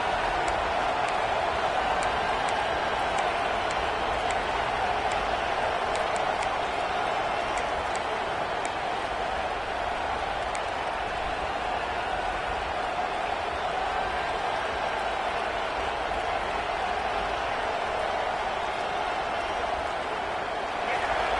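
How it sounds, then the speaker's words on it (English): Steady, dense crowd roar fills a football stadium, a continuous wash of voices and noise with no breaks, loud and enveloping. "listen to this crowd noise. This stadium is vibrating."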